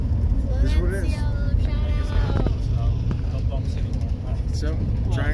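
Steady low engine rumble and road noise inside a car giving hikers a lift near Mount Shasta, constant throughout with voices talking over it.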